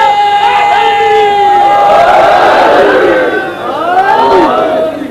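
A large crowd at a 1988 Shia majlis gathering shouts religious slogans in unison, loud rising and falling massed voices, several swelling calls over about five seconds.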